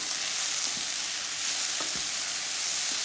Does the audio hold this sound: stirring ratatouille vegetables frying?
yes